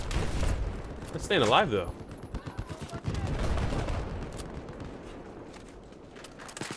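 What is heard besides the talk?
gunfire in the video game Battlefield 4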